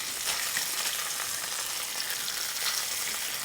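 A speckled trout fillet fries in a cast iron pan with a steady, dense sizzle that runs unbroken and fairly loud from start to finish.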